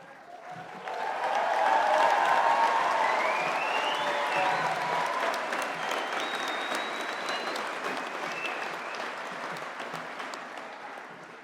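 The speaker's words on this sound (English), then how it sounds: "please join us in giving all of our recipients of awards a final rowdy line of applause" Loud, sustained applause from a large audience at a 2021 Faculty of Science and Technology graduation ceremony, honouring award recipients. It rises quickly, holds steady, then slowly thins out.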